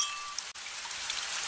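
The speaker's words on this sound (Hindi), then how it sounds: "तभी अचानक तेज बारिश मूसलाधार बरसने लगी" Heavy torrential rain in a Hindi horror cartoon, a continuous loud hiss of downpour with no voices.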